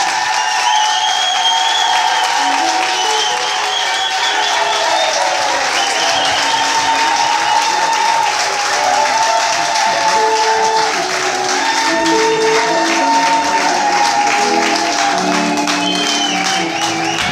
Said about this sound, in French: Quand j'appelle avec des applaudissements, Président Denis Mbashi.